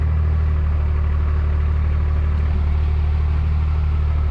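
A 2004 Dodge 3500 dually with a Cummins diesel idling steadily, a loud, deep, even rumble close by with no break and no talk.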